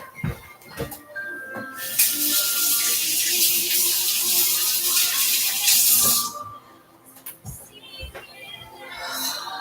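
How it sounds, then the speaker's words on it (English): Tap water rushes steadily for about four seconds as hands are rinsed under it, with soft clatters before and after the flow stops. "Let me rinse my hands."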